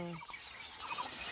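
Short chirping calls of a red-vented bulbul in dense forest at Jim Corbett, a few bright notes early on over steady outdoor ambience, moderately close.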